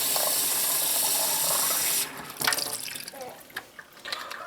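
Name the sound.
filling a silicone water bottle with water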